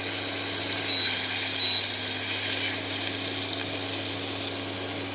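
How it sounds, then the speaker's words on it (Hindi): Two tablespoons of butter heating in a pan for barbecue sauce, giving a steady, broad sizzle that hisses on at an even level throughout, near and fairly loud, with no talking. "सबसे पहले हम पैन में 2 टेबलस्पून बटर गरम कर लेंगे।"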